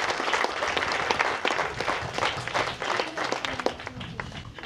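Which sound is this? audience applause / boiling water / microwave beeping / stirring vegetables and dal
audience applause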